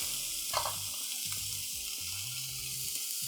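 Onions and red pepper sizzle steadily in a hot pan, a constant bright frying hiss with light stirring knocks, close and even, no talking.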